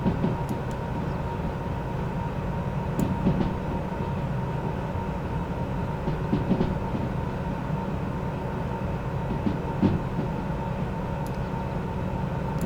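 Train braking in the Derail Valley railway simulator gives a steady, loud rumble and drone of rolling rail cars, with faint metallic clicks and squeaks scattered throughout and no talking.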